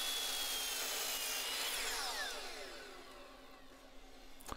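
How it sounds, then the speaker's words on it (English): A saw cutting through wood pieces for a rodent trap box, a steady whirring, rubbing cut that winds down and fades near the end, heard alone with no talking. "Just cut right on that center line there."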